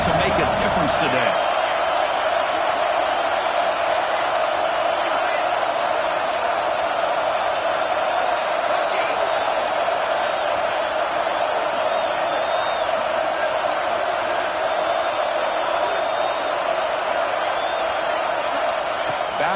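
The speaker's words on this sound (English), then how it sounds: "this home crowd is fired up and ready to make a difference today" Home crowd noise in a Madden football video game, a sustained even roar of cheering with a sharp burst at the start, running steadily for the whole stretch under commentary.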